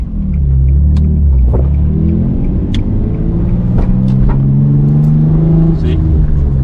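A manual-transmission car engine revs steadily in first gear, a loud continuous rumble with rising harmonic tones, close and sustained, while faint voices murmur beneath.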